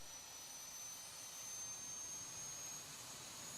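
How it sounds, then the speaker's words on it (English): An airliner's auxiliary power unit spools up in the X-Plane 11 flight simulator with FMod sounds, Alitalia aircraft, a steady broadband jet whine with a high tonal hiss holding level throughout, no talking. "there's the APU firing up."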